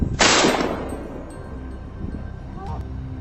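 A single loud hunting-rifle gunshot aimed at a wild boar in snowy woods, a sharp crack that rolls off into a fading echo across the quiet forest.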